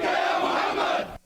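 A large crowd shouts in unison at a protest outside an embassy in Tel Aviv, Israel, a loud dense roar of voices that cuts off abruptly.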